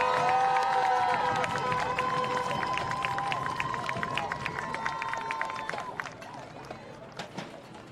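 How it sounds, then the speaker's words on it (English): A stadium crowd at a high school marching band invitational applauds and cheers as the South High Spartan Regiment leaves the field, broad and sustained at first and gradually thinning out, with band tones and announcer-like harmonics mixed in. "one more round of applause for the South High Spartan Regiment"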